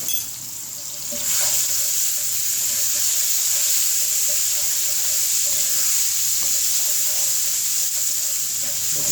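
Steady hissing sizzle of garlic ginger paste frying in hot oil, constant and close, rising sharply in the first second and holding throughout.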